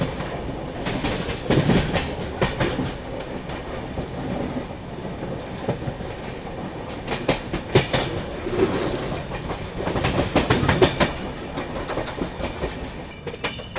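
The Pune–Kolkata Humsafar Express rolls along the rails, heard from inside with a continuous rumble and rhythmic clickety-clack of wheels over rail joints.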